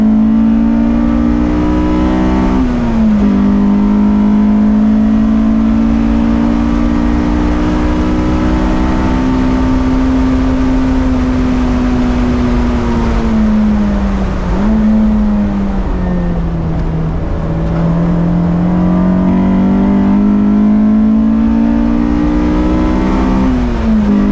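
A K24-swapped Honda S2000 on a race track, its engine loud and close as it revs continuously, the pitch climbing through the gears with brief dips at each shift.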